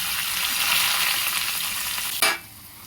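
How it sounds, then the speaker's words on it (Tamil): Cumin seeds and shallots sizzle and crackle loudly in hot oil as a tempering for a horse gram rasam, a close, dense frying hiss that drops sharply after a stir near the end. "எண்ணெய் ஊற்றி அதே நாங்கள் கடுகு போட மாட்டோம். அதை நாங்கள் சீரகத்துக்கு போட்டோம்."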